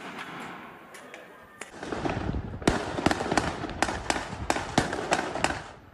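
Fireworks crack and pop during street protests in Jerusalem: a few scattered bangs, then a loud, rapid series of sharp blasts over a crowd's background noise.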